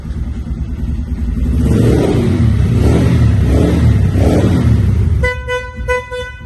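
A used Taro GP motorcycle engine revs hard in three rising swells over a steady low idle rumble, then drops away as a short series of bright horn-like tones cuts in near the end.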